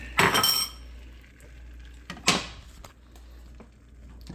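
Omelet ingredients being mixed in a bowl give two short clattering bursts of utensil against the dish, fairly quiet, with near silence between them.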